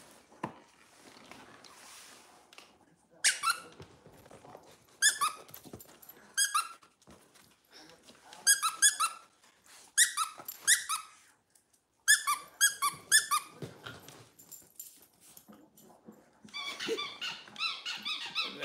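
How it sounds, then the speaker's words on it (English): A dog chews on a toy with a squeaker inside, producing repeated bursts of sharp, high squeaks in irregular clusters with short quiet gaps between them, fairly close and with no talk. "That's got a squeaker in it"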